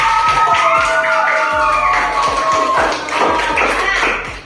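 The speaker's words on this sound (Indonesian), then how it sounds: "Aplaus untuk kelompok 1." Classroom applause for group 1: a brisk burst of many hands clapping nearby, steady and loud, mixed with rhythmic tapping and some chatter from students.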